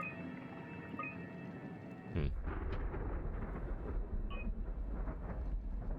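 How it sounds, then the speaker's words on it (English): A deep, thunder-like rumble in the underwater horror game Soma swells in suddenly after a quiet ambient drone and keeps rolling low and heavy, with faint tonal hums above. "What is that? Sounds like thunder,"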